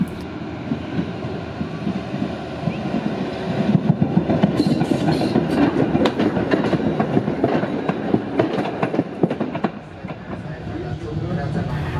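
A Gotha tram on line 4 runs along the edge of Waltershausen heading south, giving a steady rolling rumble with rhythmic wheel clatter and rattles that swell midway and hold on, with no talk over it.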